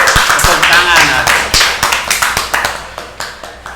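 Hands clap in a quick burst of sharp claps at the opening of an Indonesian podcast, then continue in a slower, even rhythm of single claps, close and fairly loud.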